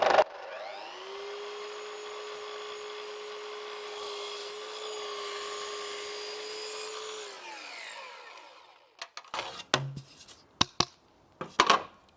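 A saw cuts through an MDF skirting board with a steady, even whine that lasts about seven seconds and then winds down. A few sharp clacks and knocks follow as the board and the tool are handled.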